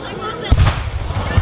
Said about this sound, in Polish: historyczny wystrzał z armaty rozpoczął bieg niepodległości nad Jeziorem Dywickim